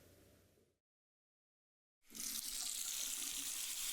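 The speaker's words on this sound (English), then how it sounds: "Now there's just water coming out." In the horror video game Without Escape, water gushes steadily from a tap after a brief silence, a loud, close, continuous rushing stream.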